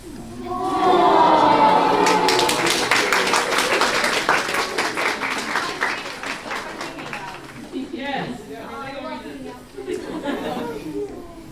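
Panel audience at a convention session applauds a contestant; a loud burst of clapping and chatter rises and gradually thins, with laughter and voices taking over toward the end.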